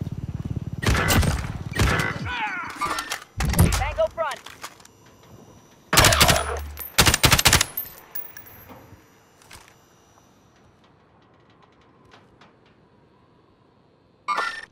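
Submachine gun fire in Call of Duty Modern Warfare, several loud separate bursts of rapid shots with game voices and quieter ambient battle noise between them, then a final short burst.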